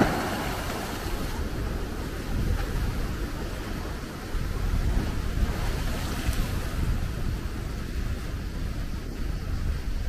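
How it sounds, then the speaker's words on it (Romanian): Large sea waves crash and surge against the shore off Brač island in the Adriatic, a steady broadband roar with wind buffeting the microphone and a swell building midway. "Vine un val mare acum."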